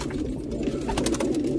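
Pigeons coo in a low, throaty murmur over steady outdoor background noise, close and fairly loud, in a short continuous stretch in Delhi.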